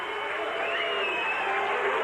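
A boxing arena crowd murmurs and jeers in a broad, continuous roar as a fight is stopped, steady and fairly loud, with no single voice standing out.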